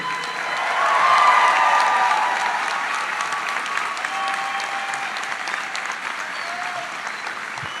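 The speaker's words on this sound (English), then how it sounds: "And a round of applause for our PhD and master's graduates." A graduation audience at the UT Austin College of Pharmacy 2023 commencement applauds PhD and master's graduates, a dense, sustained wash of clapping that swells early and then holds steady with faint cheering.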